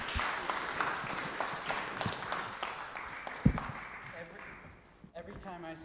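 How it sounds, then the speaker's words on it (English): Guests at an anniversary supporter celebration receive a round of applause, a room full of clapping that starts strong and thins out over several seconds, with a voice speaking near the end. "So I'd love to give a round of applause to our two guests."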